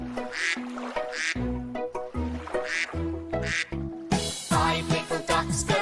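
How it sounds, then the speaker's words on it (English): Repeated duck quacks in short rhythmic bursts, loud and close, set against a simple children's song about five little ducks with melodic backing throughout. "Mummy duck says quack, quack, quack"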